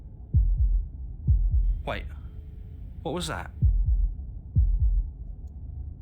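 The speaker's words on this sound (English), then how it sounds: "That was the sound of a heartbeat" Slow, deep heartbeat thuds in the game Slay the Princess, paired double beats repeating at a steady pace beneath a low drone, with a voice speaking over them.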